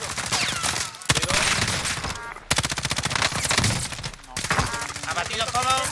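Rapid automatic gunfire in the Warzone battle royale game, dense bursts of sharp repeated shots in several long volleys separated by brief gaps, loud and close.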